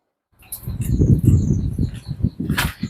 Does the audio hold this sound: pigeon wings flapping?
yes